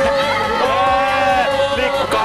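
Football supporters at a Liverpool away match chanting and cheering together, a loud, dense, sustained crowd roar with rhythmic singing pulses close by.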